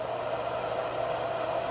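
A hair dryer, either a Dyson or a Repronizer model, blows steadily at close range, giving a constant loud whooshing hum with no breaks and no talk over it.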